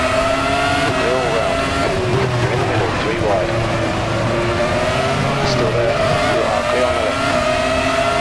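Open-wheel FR X-17 race car engines at Chang Buriram in RaceRoom Racing Experience, a loud steady drone of several cars with shifting, sagging engine tones as the pack pulls away from the start, under continuous talking.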